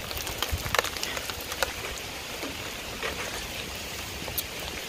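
Steady outdoor rain hisses continuously, with scattered drops tapping close on surfaces, no voices over the even wash.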